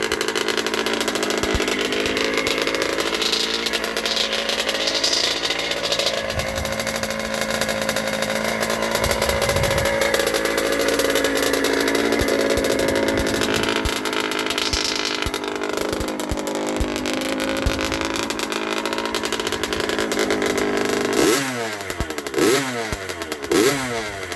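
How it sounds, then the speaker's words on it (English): A 1980 Yamaha YZ80G motocross bike engine, still being run in after a rebuild, drones loudly at high revs, the pitch wavering up and down, then drops back into a few quick blips near the end. "Better not rev it too much, we're still running it in."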